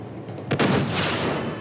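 Gunfire in the video game Uncharted: Among Thieves comes as a sudden burst of shots with a reverberant tail, heard alone with no talking.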